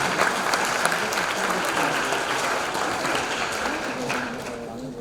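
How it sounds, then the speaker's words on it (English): Loud, thunderous applause from graduates and their supporters at a commencement, a continuous dense wash of clapping lasting throughout with a faint murmur of voices. "Give yourselves and those who supported you every step of the way a thunderous round of applause."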